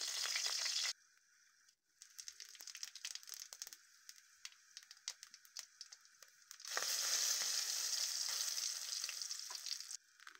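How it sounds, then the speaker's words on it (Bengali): Dried chillies, bay leaves and five-spice hitting hot oil for a tempering, loud sputtering sizzle with a brief quieter stretch of crackling before the spitting surges again. "তার জন্য এখানে শুকনো মরিচ, তেজপাতা আর 5 ফোড়ন দিয়ে দিয়েছি।"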